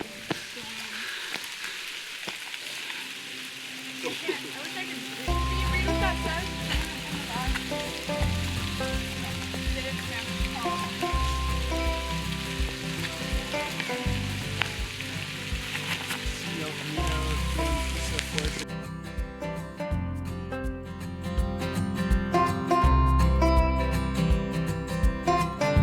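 Steady rain falls on the Camino Francés in Galicia, a dense continuous patter of drops on surfaces that holds loud and unbroken throughout, with a low rumble running beneath it.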